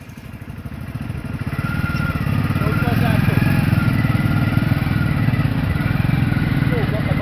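A motorcycle engine runs steadily nearby, its buzzing drone rising slightly and then holding even, with voices talking over it on a village road.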